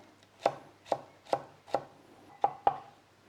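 Celery is chopped with a knife on a board, six crisp close knocks at an even pace with a quick double at the end, and no talking.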